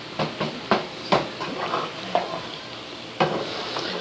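Hamburger meat fries in a pan with a soft steady sizzle, and a utensil scrapes and stirs it in several sharp, irregular strokes, close up with no speech.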